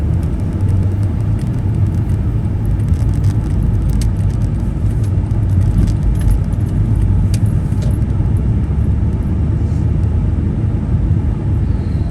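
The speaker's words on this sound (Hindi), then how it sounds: "ये गाड़ी कार पार्किंग है" A car idles or rolls through a car park, producing a steady low engine rumble with road noise that holds fairly loud and constant from start to finish.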